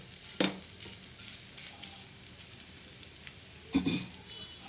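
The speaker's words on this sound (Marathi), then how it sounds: "बघा कसा खरपूस मसाला भाजतोय" Black masala spices for goat mutton dry-roasting in a pan, with two short crackling stirs standing out over a faint steady sizzle.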